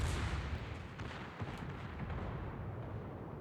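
Rapid bursts of secondary-battery gunfire from a warship blasting over an island in World of Warships, a dense, rumbling barrage of overlapping booms that stays steady and fairly loud throughout, with no voices.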